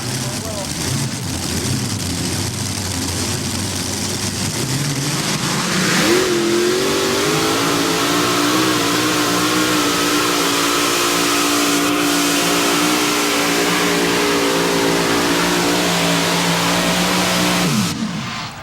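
A modified pulling tractor named Mr. Chevy, from Indiana, roars at a 1996 tractor pull in Bowling Green. The loud engine revs up and holds at a sustained high pitch down the track for over ten seconds, with an announcer talking over it.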